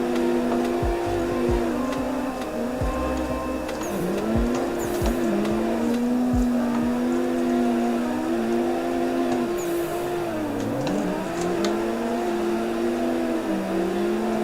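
Drift cars in the racing game Assetto Corsa slide in tandem, engines revving steadily with rising and falling pitch over continuous tire squeal and occasional bumps, loud and sustained throughout.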